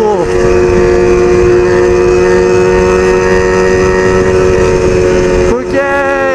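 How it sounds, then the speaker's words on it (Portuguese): A Honda CB1000 motorcycle idles rough with a fuel injection fault, a loud, close, steady engine drone with a slight shift in pitch near the end. "Porque agora a moto tá falhando muito na lenta"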